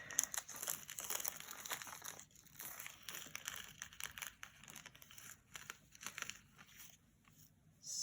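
A plastic packet of 4mm fire polished AB glass crystal beads being opened and handled, with close, quiet crinkling and rustling in irregular bursts and short pauses, no talking.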